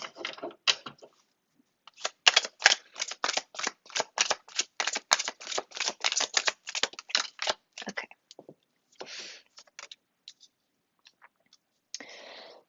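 Tarot cards being drawn and shuffled from a deck, close up: quick runs of crisp snapping and flicking card sounds in a rapid rhythm, thinning out into a few scattered rustles and taps.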